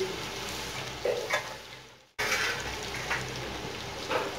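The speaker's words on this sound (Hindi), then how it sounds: "इनको अच्छा सा हम ब्राउन कलर आने के लिए, जब तक इसको भूनेंगे" Pakoras sizzle steadily as they fry in a pan until brown, a continuous crackling hiss with a brief dip partway through before the frying noise returns at full strength.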